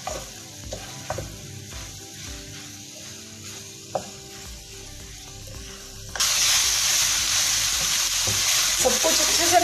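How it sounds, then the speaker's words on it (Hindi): Keema is stirred and mixed with green chillies and dried coriander: scattered scrapes and knocks of a spoon come first, then a loud, steady sizzle of frying takes over for the last few seconds. "सब्ज मिर्चें शामिल करेंगे और खुश्क धनिया ये शामिल करके तो इसको मिक्स करेंगे।"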